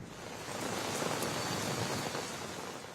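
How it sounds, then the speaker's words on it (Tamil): Steady rain falling around Cuddalore, a continuous even hiss of heavy rainfall with no voices, constant and fairly close throughout. "கடலூர் சுற்றுவட்டார பகுதிகளில் மழை பொழிந்து வருகிறது."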